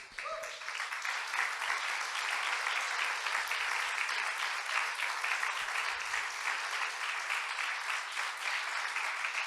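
A church congregation applauds during a Spanish-language sermon, dense continuous clapping that holds steady and fairly loud from start to finish, with no voice over it.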